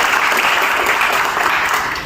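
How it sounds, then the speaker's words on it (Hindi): Dense, steady applause from an audience at a Kubota tractor salesman training event, filling the whole moment at close range with no break or speech. "बार आप सब लोगों की तालियां रखते हैं।"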